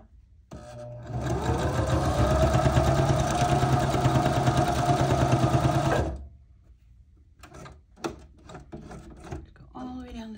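Sewing machine stitching through altered playing cards: a loud, continuous rapid mechanical whir for about five seconds, then stops, followed by scattered handling clicks and taps.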